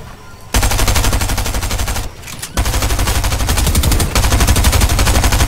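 SMG fire in a video game arena rattles in long rapid automatic bursts, loud and close, with a short gap before the firing resumes.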